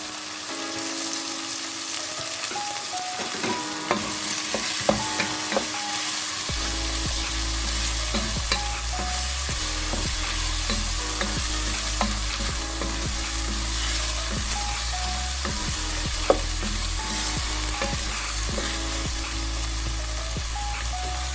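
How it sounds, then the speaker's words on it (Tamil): Chopped tomato sautés in a pan for mutton biryani, sizzling steadily throughout, with frequent scraping and stirring clatter and a low hum joining partway through. "இப்போ தக்காளி ஓரளவு வதங்கிடுச்சு."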